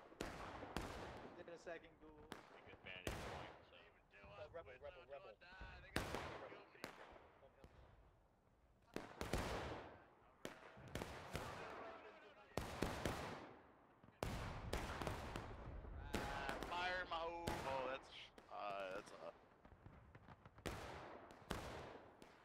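Distant gunfire in the video game War of Rights, a long run of scattered musket shots, some sharp and near, others fainter, spaced unevenly. Voices speak between several of the shots.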